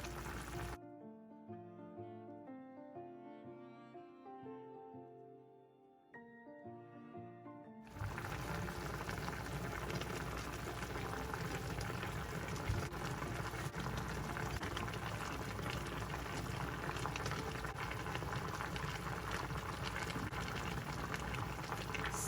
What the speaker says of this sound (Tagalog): Hintayin po natin kumonti pa ang kanyang pinakasabaw.